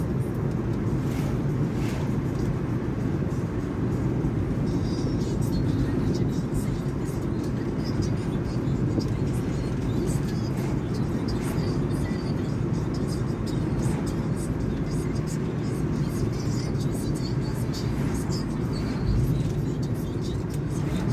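Car driving through road traffic in Westmoreland, Jamaica, a continuous low engine and road rumble heard from close by, with people talking over it throughout.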